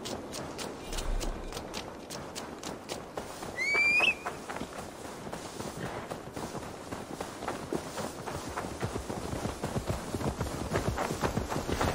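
A horse walks and trots along in Assassin's Creed Valhalla, its hooves clip-clopping in a steady, close rhythm for the whole stretch, with a brief rising whistle early on.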